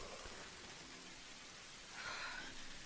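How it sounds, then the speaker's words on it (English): Heavy rain pours steadily in the Tomb Raider video game on a stormy island, a dense, even hiss of falling water that swells slightly louder toward the end, with no voices. "Belting it down with rain."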